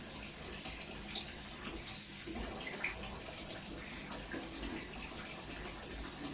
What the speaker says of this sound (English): A nice little wash.